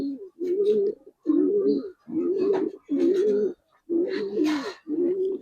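Giribaz and coloring pigeons cooing up close, six or seven deep, throaty coos in a steady rhythm with short pauses between them, alone with no talk.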